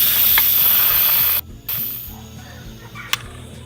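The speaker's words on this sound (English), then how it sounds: "It's time to get that steam off of our cake." A pressure cooker holding a lemon raspberry breakfast cake vents steam after its timer ends, giving a loud steady hiss that cuts off abruptly, then resumes more softly and fades.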